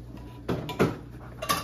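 A spoon scrapes and clinks against a dish while salt and pepper are stirred into a tuna casserole mixture, three distinct metallic knocks close by with a quiet pause between them.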